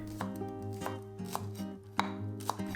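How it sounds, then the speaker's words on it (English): A knife cuts green onions into small pieces on a board, with several crisp chopping taps at an irregular rhythm over a low steady background hum, close and fairly quiet. "Cut the green onions into small pieces."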